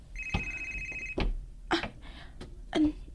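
A telephone rings with a bright electronic trill in a dramatic indoor scene, two short rings sounding at moderate volume among footsteps and small bumps, no speech over it.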